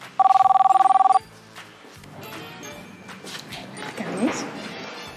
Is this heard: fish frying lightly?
no